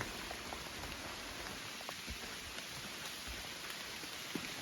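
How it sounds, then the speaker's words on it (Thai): Heavy rain falls in a dense, steady hiss with scattered close drop impacts, loud and continuous throughout with no voices. "นี่นะฝนตกหนักมากๆเลยนะ"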